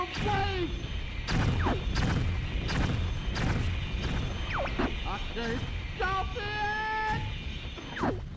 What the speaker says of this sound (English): One of the most epic explosions as well, with those giant pink and white spheres.